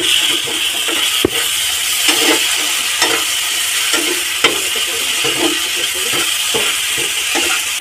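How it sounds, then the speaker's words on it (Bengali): Spices and sugar sautéing for a red, spicy pangas fish curry: a steady close sizzle, with spoon scrapes and stirs against the pan recurring about once a second throughout. "তো এগুলো দিয়ে বেশ কিছুক্ষণ কষিয়ে নেব।"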